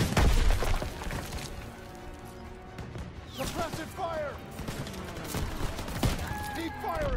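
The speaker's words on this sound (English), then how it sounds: "Suppressive fire! Keep firing!" Sustained gunfire in Call of Duty: WWII, with bursts and booms crackling through the mix alongside shouted voices, loud and continuous through the battle.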